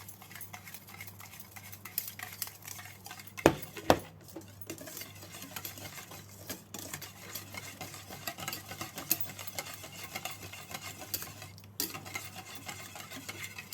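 A spoon stirs custard powder into milk in a bowl to work out the lumps: steady, close swirling and scraping with a couple of sharp clinks early on, fairly quiet and with no talking.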